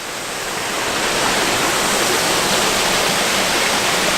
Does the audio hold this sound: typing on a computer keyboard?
no